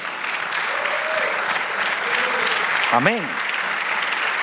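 Church congregation applauding during a sermon, a sustained, full wash of clapping from a crowd, with a voice calling out briefly partway through.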